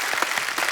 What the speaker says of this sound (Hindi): तालियां और जोर से होनी चाहिए जरा